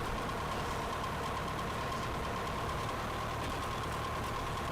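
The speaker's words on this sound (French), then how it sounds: "Le moteur maintenant démarré, l'avion circule au sol jusqu'au seuil de la piste 1-1 à Mascouche" Small airplane engine running at a low, steady idle-like drone while taxiing on an icy airfield toward runway 11 at Mascouche, a faint continuous hum with a constant tone and no voices.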